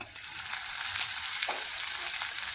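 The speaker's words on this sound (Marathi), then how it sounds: "चांगलं फ्राय करून घेऊया तेलामध्ये खमंग वास तेपर्यंत" Cumin, mustard seeds, chopped coconut, garlic and coriander fry in a small amount of oil, giving a steady, bright sizzling hiss from start to finish with faint stirring taps and no voices.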